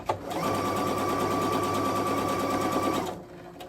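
A sewing machine stitches a shirt in one steady, fast continuous run of needle chatter, close and fairly loud, starting abruptly and stopping near the end with no talking.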